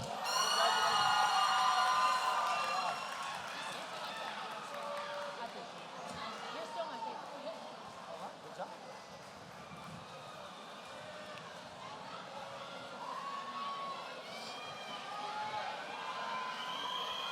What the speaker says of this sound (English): Let's give them one more big round of applause, everybody.